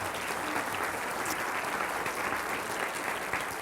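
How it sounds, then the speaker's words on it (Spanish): Steady, dense applause from a church congregation at a religious service fills the whole stretch without pause, loud and even, with no talk over it. "Dele un aplauso y gloria al Señor Jesucristo."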